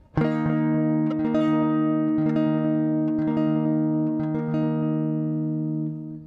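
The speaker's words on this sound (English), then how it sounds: "you're only going to strum the fifth string, fourth string, and third string" A guitar chord is strummed repeatedly on only the fifth, fourth and third strings in a steady rhythm, its notes ringing and sustaining together, clear and close with no talking.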